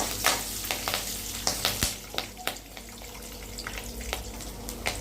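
Chana dal, urad dal and green chillies fry in hot oil, crackling and sizzling loudly up close, with frequent sharp pops and spatters throughout and no voices.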